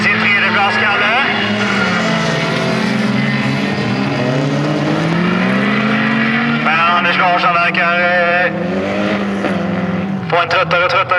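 Folkrace cars at a 2015 Trollhättan event roar around a track, one sliding out into a sand trap. Loud, continuous engines rise and fall in pitch as cars pass, under steady commentary.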